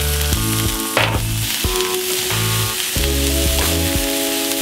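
Mushrooms frying in oil, crackling sizzle under a repeated tonal hum and clanking, a few sharp bursts as more oil goes into the pan, close and fairly loud.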